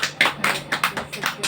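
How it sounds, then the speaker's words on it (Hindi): A short run of about seven claps from an audience, spaced in a quick, fairly regular rhythm and heard moderately close. "जोर से बजाओ ताली, सुनने दो।"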